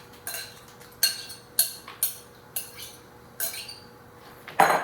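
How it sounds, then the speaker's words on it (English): Chunks of pumpkin are dumped onto a metal cookie sheet, giving a series of sharp metallic clatters and clinks, about eight distinct hits spaced irregularly, close and fairly quiet, with no talking. "I'm going to dump it in a cookie sheet."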